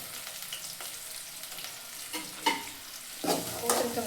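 Onions, curry leaves and green chillies fry in a pan for a dried-fish curry, a soft, steady sizzle under occasional stirring scrapes that grow more noticeable toward the end, quiet overall and with no talk.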